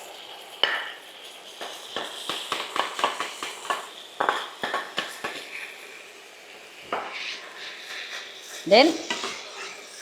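Rice being stirred and scraped in a pan with other tom yum fried rice ingredients, giving a run of uneven clinks and scrapes of the spatula against metal with a light sizzle underneath; a voice briefly speaks.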